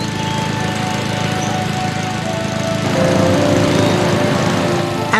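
A lawn mower engine drones steadily and loudly nearby, a rough, continuous buzz that rises slightly in pitch midway, with no one talking.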